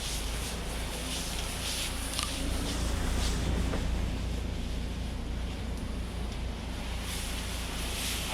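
A pressure washer gun rinses the outside of a house, giving a loud, continuous broadband hiss of spraying water that stays steady throughout with no pauses.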